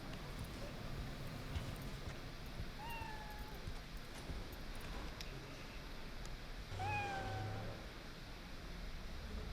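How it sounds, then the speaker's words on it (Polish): A hairless cat in the Cyberpunk 2077 video game meows twice when petted, two clear drawn-out mews several seconds apart over a low background hum and faint ambient noise. "Nie ma to pogłaskać łysego kota."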